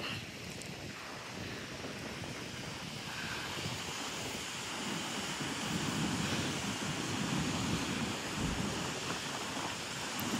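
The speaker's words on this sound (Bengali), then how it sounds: "সমুদ্রের কি সুন্দর ঢেউ।" Sea waves wash onto the shore at Galle Fort, a continuous rolling surf roar mixed with gusty wind buffeting the microphone, swelling slightly in the second half, with no voices.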